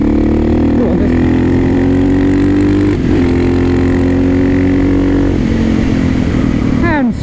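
A KTM 660 SMC motorcycle with a five-speed gearbox roars loud and close on green lanes, holding a strong steady engine note before revving up sharply near the end, with a voice partly audible over it.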